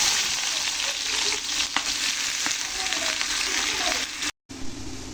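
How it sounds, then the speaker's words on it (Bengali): Chopped onion frying in a pan while cooking a dried fish (shutki) curry, a steady close sizzle throughout with a brief cut near the end, and someone talking over it. "এবার আমি পেঁয়াজ কুচি দিয়ে দেবো।"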